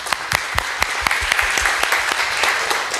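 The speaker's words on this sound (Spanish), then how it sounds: "Denle un fuerte aplauso a Johanna." Church audience giving a strong round of applause for a woman named Johanna, with sharp individual claps standing out near at first, then blending into a dense even wash of clapping.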